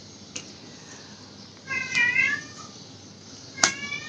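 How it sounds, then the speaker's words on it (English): A pet cat named Kafka gives a few faint, short meows indoors, one drawn-out call followed by a sharper one, against a quiet background hiss. "My Kafka is doing meow meow"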